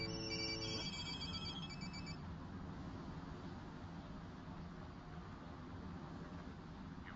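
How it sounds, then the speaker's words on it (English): Several cell phones sound tonal electronic alert chimes at once as picture messages arrive. The overlapping tones are loud and last about two seconds, then fade into a steady background hiss, with no talking. "each of you will receive a picture message to your cell phones"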